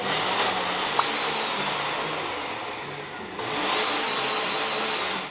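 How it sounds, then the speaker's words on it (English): A blender whirs continuously as it purées dates with a little water for sticky toffee pudding, a loud steady motor drone that dips briefly and then picks back up, with no talking. "Does anyone else do this when they use the blender?"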